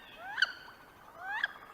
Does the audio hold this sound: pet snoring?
no